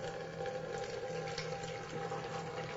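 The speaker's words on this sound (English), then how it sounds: "You pour the salt water in and out comes chlorine." Salt water pours steadily into a small battery-powered chlorine generator, making a continuous soft splashing and gurgling stream at a low level with no talk.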